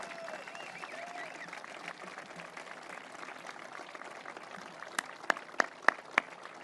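A crowd claps steadily in a room at the opening ceremony of the Gordie Howe Bridge, with several sharp, louder individual claps standing out near the end.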